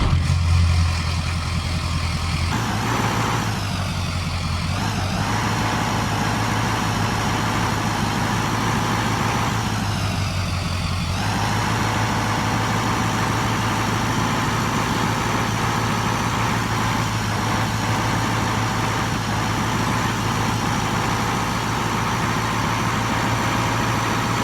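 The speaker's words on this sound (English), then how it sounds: "Turn the nice truck on," A truck engine in Farming Simulator 2015 starts and settles into a steady, loud idle, with a low continuous drone that holds for over twenty seconds and has no voices over it.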